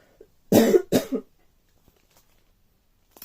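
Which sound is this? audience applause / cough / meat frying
cough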